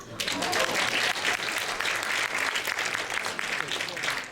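Audience at an education homecoming event breaking into sustained, loud applause after a speaker pauses to drink water, with a voice faintly heard underneath.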